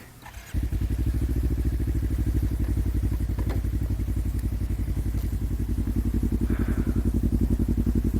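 A 2013 Suzuki GW250 motorcycle engine starts and settles into a steady, loud idle, a rapid low rhythmic burble that holds evenly close by.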